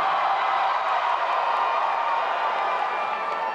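Museum audience cheers loudly for St. Petersburg as best city, a sustained dense crowd roar with whoops and some clapping, steady and loud throughout.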